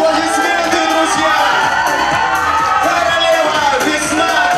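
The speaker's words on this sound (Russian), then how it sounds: "Ваши аплодисменты, друзья!" A dense, steady roar of an audience cheering and whooping with mixed shouts, loud and continuous throughout, at the Queen Spring 2019 beauty pageant in Vitebsk.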